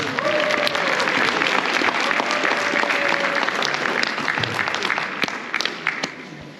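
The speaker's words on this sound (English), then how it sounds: "I think I deserve a round of applause." Crowd at a UK–Zimbabwe business expo in Birmingham breaks into sustained applause, dense and even clapping that holds for several seconds with a faint voice over it before thinning out.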